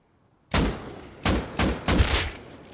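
Rust console edition gunfire: four loud, booming shots in quick succession, close by with a rolling echo after each, and no talking.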